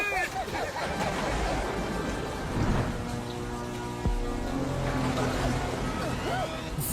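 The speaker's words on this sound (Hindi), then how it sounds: "अब तो तुम्हारे साथ रोने के लिए बारिश भी आ" A steady wash of rain with a low rumble of thunder swelling midway runs through a Motu Patlu cartoon scene, a continuous dense hiss that barely varies in loudness.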